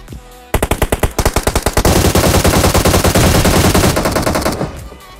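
Automatic gunfire in PUBG: a rapid burst of loud, close shots, first distinct then merging into a dense continuous rattle before cutting off.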